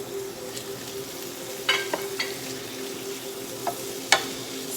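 Artichoke hearts sizzle steadily in a hot pan, a continuous close frying hiss broken by a few sharp clicks and knocks of a utensil against the pan.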